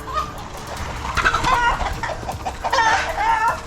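Several chickens cluck and squawk close by, a dense run of agitated fowl calls with rising peaks and no one speaking.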